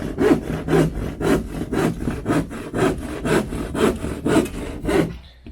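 A hand saw cuts through quarter-inch plywood at a bungalow build site in the Philippines, about ten steady, rhythmic rasping strokes, close and clear, with no talk, before the cutting stops.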